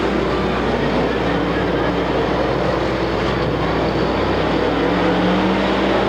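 Race cars in a weekly racing series at Watsonville, California, produce a dense, unbroken engine roar from several cars at once, loud and steady throughout with no clear passes standing out, while a commentator talks over it.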